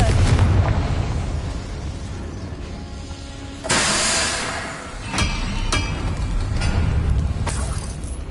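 A Confringo fire spell bursts in the Hogwarts video game world with one sudden loud blast midway through. A rumbling, mechanical battle ambience surrounds it, with fainter impacts following.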